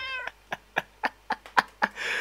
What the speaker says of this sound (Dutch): waar hoor ik die nieuwe kat? Die hoor ik heel dicht bij me